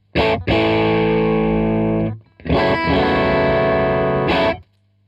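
Two long overdriven electric guitar chords through a Victory V40 Deluxe tube amp with pre-gain fully up, ring out one after another, gritty and loud, each held for a couple of seconds before cutting off.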